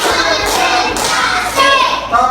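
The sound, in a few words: class clapping hands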